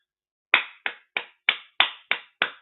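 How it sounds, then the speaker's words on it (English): A single person claps sarcastically, seven slow, evenly spaced, sharp hand claps, close and isolated, with silence between each. "Round of applause for the fucking rocket scientists at the Times."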